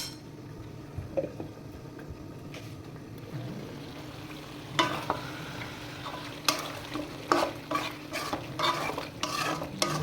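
Meat being stir-fried (kasha) in a pan, a low sizzle under repeated scraping and clinking strokes of a spatula against metal that grow busier in the second half, close and unaccompanied by talk.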